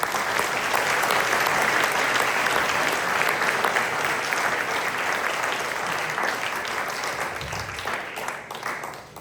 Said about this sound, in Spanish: A ver, denle un aplauso a Cristo.